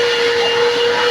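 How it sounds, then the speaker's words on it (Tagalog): A vacuum cleaner running while cleaning out a car, a loud, steady whine and roar close by, continuous throughout with no voices. "Medyo maingay siya dahil vacuum."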